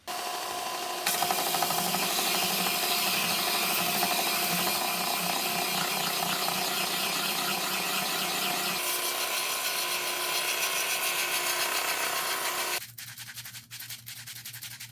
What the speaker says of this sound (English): I'm going to use the belt sander to help make this more smooth and more level